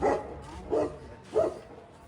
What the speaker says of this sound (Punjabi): ਕਿਹੜੀ ਨਸਲ ਦਾ ਕੁੱਤਾ ਹੈ ਆਹ ਵਾਲਾ ਖਤਰਨਾਕ